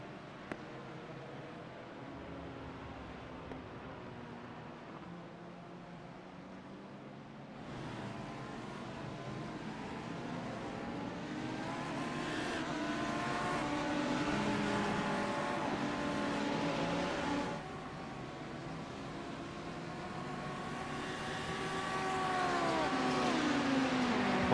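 Race cars roar past in a virtual endurance race at Barcelona, with Ferrari, Audi and Mercedes cars battling for position; engines whine and rise in pitch as they accelerate and shift, a continuous layered drone under commentary.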